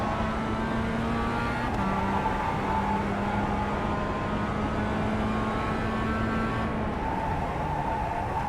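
A Mazda MX-5 Cup race car engine on Tsukuba Circuit in iRacing drones at a steady, fairly faint pitch with slight shifts and a gear change, no voices over it.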